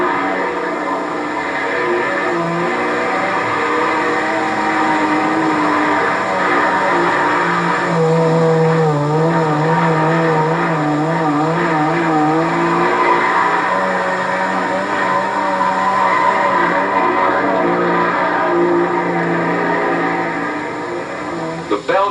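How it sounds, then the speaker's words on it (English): An International Harvester truck running the figure 8 test on a proving ground, its engine droning steadily with a low, rising and falling tone throughout, under a narrator's voice. "The figure 8 test for thrust on front wheels and spindles."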